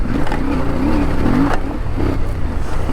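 A CF Moto 450 motorcycle engine running steadily while riding sandy single track, its constant close drone rising and falling slightly in pitch, with a brief scrape of dirt midway and no talking.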